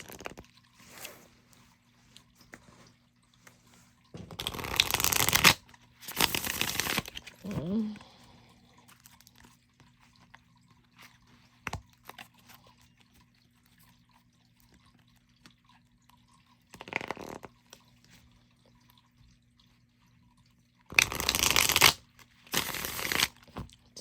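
Several bursts of cards being riffled and shuffled, each lasting about a second, separated by quiet stretches with faint handling noises.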